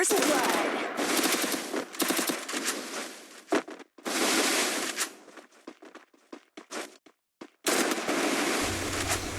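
Shotgun gunfire in a video game, several loud blasts and bursts with short gaps between them, plus some sharp clicks. A short final burst comes near the end.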